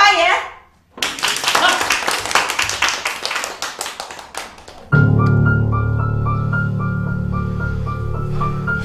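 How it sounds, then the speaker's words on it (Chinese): A crowd at a village meeting claps for about four seconds, an uneven burst of hands that fades out, followed by a sustained tonal music bed. "下面，我们掌声有请童主任发言"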